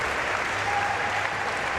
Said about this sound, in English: A round of applause for the gymnast from